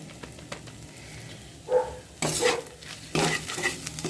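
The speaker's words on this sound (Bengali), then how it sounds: "এটা দিয়ে ভালো করে আমি একটু ভেজে নেব" Onion with ginger-garlic paste, turmeric and chilli powder frying in a pan for a fish curry with potato and cauliflower, heard as a quiet background sizzle broken by a few louder bursts of stirring and scraping, with no talking.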